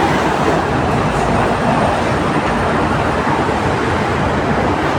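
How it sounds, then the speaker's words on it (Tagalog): A train rolls past continuously at close range, with a dense rumbling roar and rattling wheels that stay loud throughout with no voices. "So, yun yung train."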